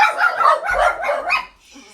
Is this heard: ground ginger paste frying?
no